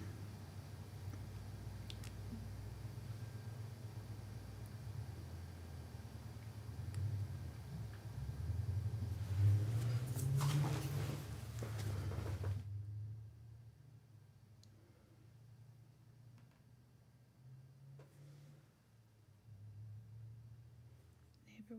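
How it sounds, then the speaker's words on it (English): A neighbor's loud truck drives past outside, a low, steady engine rumble that swells to a peak and then cuts away, heard from indoors. "Neighbor with the loud truck going by."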